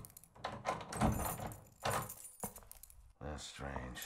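A key rattling in a locked door in the horror game Silent Hill 4: The Room, with metallic jangling and clunks in several short bursts, fairly close, interleaved with speech.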